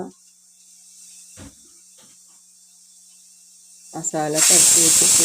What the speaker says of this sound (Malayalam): ഇത് മീൻ വറുക്കാനായിട്ട് ഞാൻ ഫ്രൈ പാൻ വെച്ചിട്ടുണ്ട്. അതിൽ കുറച്ച് വെളിച്ചെണ്ണ ഒഴിച്ചു.